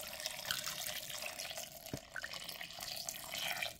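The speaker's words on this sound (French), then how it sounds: "Et là, je vais rajouter de l'eau." Water pours steadily into a soup pot of onions and tomato being cooked, a faint continuous splashing stream with slight bubbling, heard alone.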